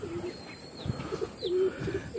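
Racing pigeons returning home after a race coo softly outdoors, a few short rising and falling calls with light chirps, close by and fairly quiet.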